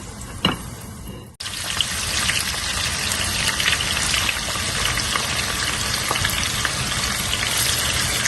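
Mushrooms fry in a pan, giving off a dense, steady sizzle with a little watery crackle from their released juice, close and continuous after a brief clatter at the start.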